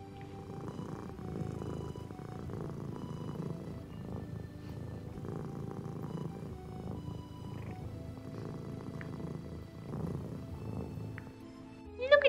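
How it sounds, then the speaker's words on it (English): A kitten purrs softly and steadily, close by, with a rhythmic rumbling that rises and falls with each breath. "Listen to the purrs."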